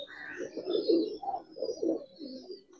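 Pigeons coo in soft, low, rolling phrases repeated several times, close by, with faint chirps above and no speech.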